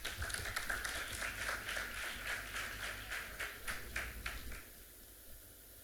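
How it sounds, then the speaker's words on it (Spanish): Conference audience applauding for the first speakers at an event, a fairly soft, steady round of clapping that thins out and fades toward the end. "Un aplauso."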